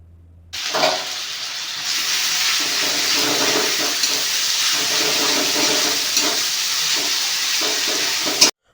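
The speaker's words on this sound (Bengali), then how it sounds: "তেল গরম হয়ে আসলে প্রথমে কুচনো লঙ্কা দিয়ে দিতে হবে। তার পরপরই দিয়ে দিতে হবে আদা কুচি, এবং তার সঙ্গে দিতে হবে রসুন কুচি।" Chopped chilli, ginger and garlic fry in hot oil for a homemade dal tadka. The sizzle starts abruptly, loud and close, and stays a dense steady hiss with faint crackles until it cuts off.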